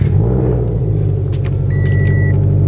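A turbocharged car fitted with a turbo blanket runs with a loud, close, steady engine rumble, and a short electronic chime tone sounds partway through.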